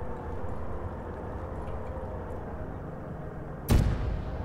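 A sudden loud explosion in the Arma 3 video game bursts out near the end, breaking through a steady low rumble of background game ambience.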